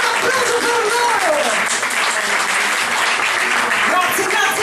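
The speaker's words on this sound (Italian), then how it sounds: "ancora un applauso per loro!" An audience applauds singers at a live show, a dense, sustained wash of clapping with scattered voices and cheers rising through it.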